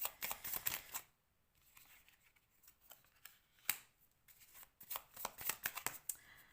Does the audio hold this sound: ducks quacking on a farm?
no